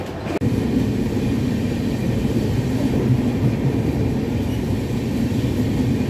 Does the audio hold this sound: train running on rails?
yes